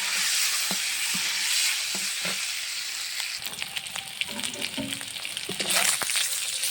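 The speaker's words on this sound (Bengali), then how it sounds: "ডিমগুলো আস্তে আস্তে তেলের মধ্যে দিয়ে লবণ হলুদ দিয়ে ভেজে নিলাম।" Eggs fry in hot oil in a wok with salt and turmeric, giving a steady close sizzle with scattered stirring scrapes and soft clinks, growing a bit busier toward the end.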